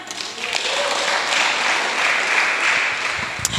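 Congregation clapping at a church service, a steady dense patter of many hands filling the room throughout, with no pause and a brief sharper clap near the end.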